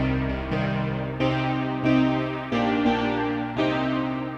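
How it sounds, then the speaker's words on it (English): A bright synthesizer keys patch made with the DRC synth to recreate the keyboard sound of Steve Winwood's 'Valerie', playing sustained chords that restart about every 0.6 to 1.2 seconds, steady and clear with no talking. "let's go to the keys, which is the last sound, and sounds like this"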